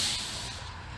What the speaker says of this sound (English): Dominic is blowing down the truck as we speak